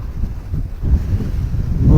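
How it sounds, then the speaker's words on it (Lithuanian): Strong cold wind batters the microphone out on the ice at a Swedish ice-fishing competition, a loud, unsteady low roar and rumble that swells toward the end, with no speech. "Tai žiaurus vėjas šiandien pučia."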